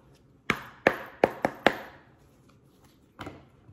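Several sharp knocks rap on a split tarot deck: five quick, loud taps in an uneven burst, then a pause and one softer, final knock, with no talking.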